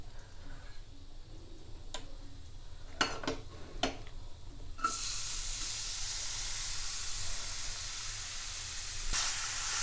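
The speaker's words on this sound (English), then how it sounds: "And once it starts melting, we'll be adding the chopped onions in it." Chopped onions hitting melted fat in a pan for Maharashtrian mutton sukka: a few faint clicks and taps, then a sudden broad, steady sizzle that carries on loudly to the end.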